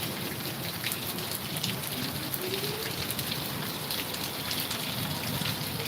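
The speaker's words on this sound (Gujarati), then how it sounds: "જે રાજકોટમાં વરસાદ પડી રહ્યો છે જો" Steady monsoon rain pours down in Rajkot, India, a dense continuous patter of drops hitting surfaces nearby, with no voices over it.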